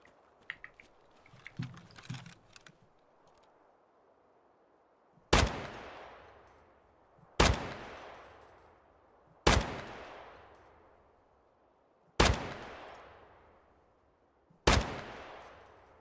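Five loud, evenly spaced gunshots ring out in the video game Escape from Tarkov, each a sharp crack with a long decaying tail, after a few seconds of faint clicking and handling noise.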